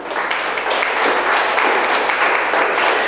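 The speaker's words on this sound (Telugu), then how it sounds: "చప్పట్లు కొట్టండి అందరూ ఒకసారి" A congregation at a church Christmas celebration applauds with a broad, steady wash of clapping for a few seconds. The clapping stays fairly loud and even throughout.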